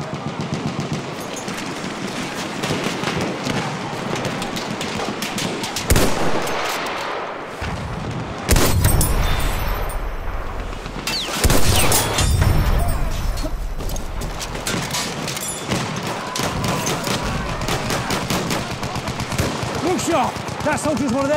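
Sustained machine-gun fire in the first-person shooter Battlefield 1 rattles almost without pause across a conquest battlefield, with heavier explosive bursts and crashes breaking in and soldiers shouting over the din.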